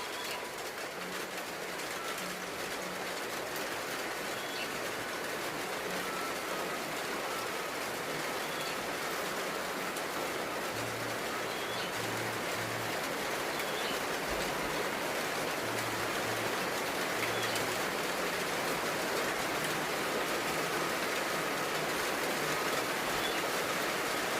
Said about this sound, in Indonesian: nah luar hujan